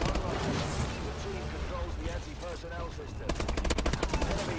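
Rapid automatic gunfire in Call of Duty: Advanced Warfare multiplayer, dense bursts with a hard rattling volley toward the end, under a voice talking over the shots.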